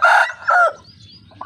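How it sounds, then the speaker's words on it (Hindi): An Aseel rooster gives a short, close crow in two hoarse bursts, loud and clear, followed by quiet background. "मुख्तसर सी इसकी बांग है।"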